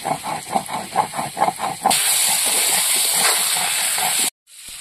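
Spices and slit green chillies sauté in a pan, opening with rhythmic scraping strokes, then a loud continuous sizzling hiss that stops abruptly near the end.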